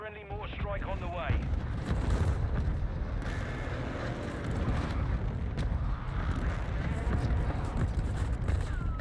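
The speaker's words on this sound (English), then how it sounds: "Hostile airstrike near your location." Airstrike explosions rumble through Call of Duty MW2 Ground War, a continuous heavy booming and crackling battle din with dense low-end blasts, loud throughout, with radio voices talking over it.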